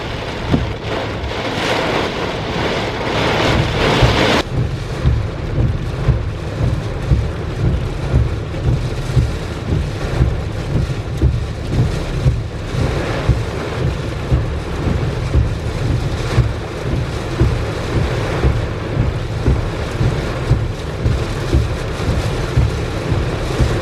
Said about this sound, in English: it took a while for it to get here, but it's definitely raining now